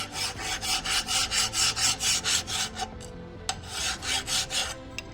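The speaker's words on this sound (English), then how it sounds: "if it looks like there's a fair amount of crud on there, then you can hit it with a file" Steady back-and-forth rasping of a file scraping crud off a brake surface on a 2006 Jeep during front driveshaft U-joint work, about a dozen rhythmic close strokes, a short pause, then several more strokes.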